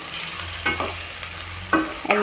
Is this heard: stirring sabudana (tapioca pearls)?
yes